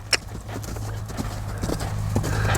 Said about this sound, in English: Now I'm going to let her canter or lope.